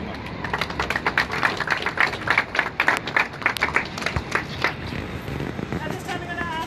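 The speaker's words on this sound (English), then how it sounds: "So I think you all deserve a round of applause for the work that you've done as well." A crowd applauds at an outdoor police Pride flag-raising ceremony in Toronto, with dense clapping peaking midway and then tapering into a softer patter.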